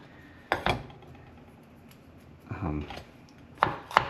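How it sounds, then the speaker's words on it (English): An onion being sliced with a knife, with its roots trimmed off, gives a few sharp close chops against a board, a short scraping run of cuts in the middle and two more crisp knocks near the end, with quiet pauses between. "now I'm going to slice the onions"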